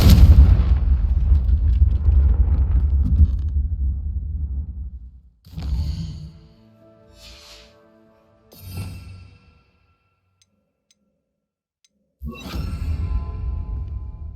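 Powerful Confringo blasting spells in Hogwarts Legacy, several loud, booming explosions with rumbling tails: a long roaring blast at first, then separate bursts a few seconds apart, with silence between them.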